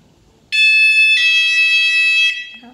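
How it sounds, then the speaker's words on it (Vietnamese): An ATA 119R wireless door chime sounds a single loud, bright electronic tone that holds for about two seconds, with a brief pitch shift partway through, alone in a quiet room. "khi mà có người mở cửa thì nó cũng chỉ kêu một tiếng thôi"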